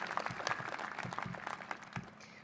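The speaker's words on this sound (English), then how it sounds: "Let's give them a round of applause." Graduates at a college commencement ceremony receive fairly soft, distant applause from the audience, a scattered patter of clapping that tapers off slightly toward the end.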